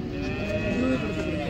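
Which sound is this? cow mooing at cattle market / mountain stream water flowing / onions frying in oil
cow mooing at cattle market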